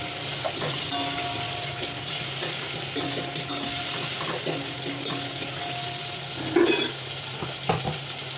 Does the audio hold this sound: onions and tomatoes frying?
yes